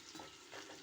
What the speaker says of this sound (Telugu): ఈ 3 ఆకులు బాగా వేగిపోయినాయండి, అంతా బాగా వేగిపోయింది